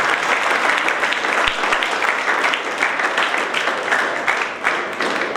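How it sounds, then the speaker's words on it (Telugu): Sustained applause from an audience at a college gold medal awards ceremony for academic excellence, dense steady clapping filling the whole stretch without a break. "దయచేసి చప్పట్లు కొట్టండి మరొకసారి వాళ్ళందరికీ కూడా"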